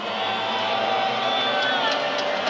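Spectators at a professional basketball game in a Kaohsiung arena roar and cheer in a sustained, bright din, with an announcer's voice running over the crowd.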